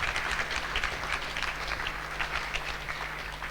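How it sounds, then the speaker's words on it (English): An audience at a class gathering claps for the speaker Maharaj, a steady patter of applause heard from a distance over a low mains hum, moderately quiet throughout. "let's give Maharaj a wonderful round of applause for that."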